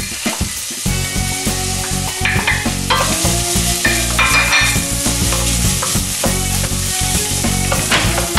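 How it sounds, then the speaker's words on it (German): Vegetables sweating in cold-pressed olive oil in a pan at moderate heat, with a continuous close sizzle and repeated clatter and scraping of stirring. "Die werden jetzt angeschwitzt."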